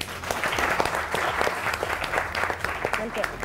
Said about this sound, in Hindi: उनके लिए जरूर तालियां बजाएं।